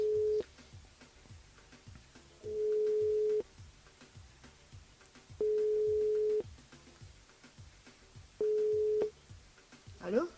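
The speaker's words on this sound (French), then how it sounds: "On appelle Delia et puis on appelle Marie du côté de Saint-Clotilde" The ringing tone of an outgoing telephone call sounds as four steady, evenly spaced beeps roughly two seconds apart, heard over faint background music from a live radio broadcast.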